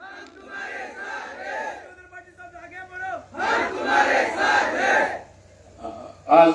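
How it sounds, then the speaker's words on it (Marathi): A crowd at an outdoor village election rally for an assembly candidate lets out rousing shouts, chanted cries and a loud swell of cheering, with bursts of noise rising and falling over a few seconds. "विधानसभेचे उमेदवार हर्षवर्धनभाऊ पाटील यांच्यासाठी एकदा जोरदार टाळ्या झाल्या पाहिजे"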